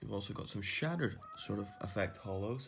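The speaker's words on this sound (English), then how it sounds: "If the noise you can hear is my cat, who's not too happy." An unhappy pet cat meows briefly in the background while a person talks steadily over it indoors.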